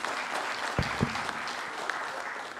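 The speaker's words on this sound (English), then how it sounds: "A huge round of applause for him," Conference audience at an immuno-oncology society meeting breaks into steady applause, dense and even throughout with a couple of sharper claps standing out near the middle.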